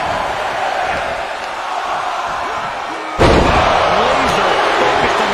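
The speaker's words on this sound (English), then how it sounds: "Just listen to the crowd." A wrestling arena crowd roars in a broad, continuous wash of noise that suddenly swells louder with a heavy slam partway through, and a commentator talks over it.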